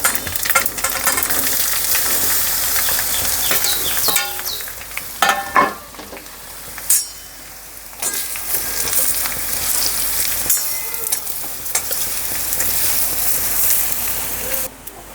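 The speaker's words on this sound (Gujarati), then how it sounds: "અને હવે વઘાર નાખું." Hot tempering of oil, mustard seeds, sesame, curry leaves and chillies poured over steamed patra rolls, a loud hissing sizzle with spattering pops and bursts that ebb and swell, no talk.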